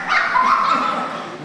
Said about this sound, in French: joue avec le chien Bémol